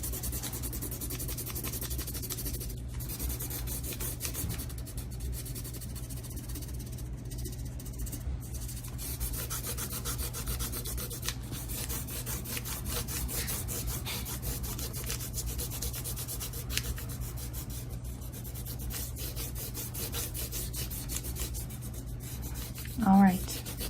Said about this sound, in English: you're going to put your pencil on its side, okay? And you're gonna press really hard and color